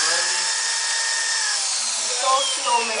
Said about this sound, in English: Don't go through too fast that you end up drilling the bench